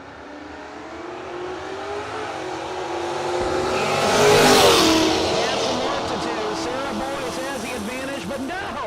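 A Camaro drag racing car at a no-box event accelerates, its engine rising to a loud roaring peak midway, then easing off as it recedes down the strip, with crowd and announcer voices underneath.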